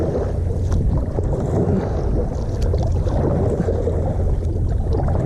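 A kayak being paddled around in a circle on open water, with steady wind rumble and low water wash close to the microphone, continuous and without speech.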